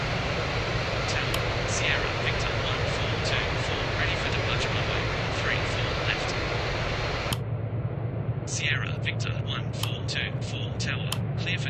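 Steady, loud engine roar of an Airbus Beluga XL on its takeoff run in the RFS flight simulator game, a constant broadband drone with radio chatter and faint voices layered over it.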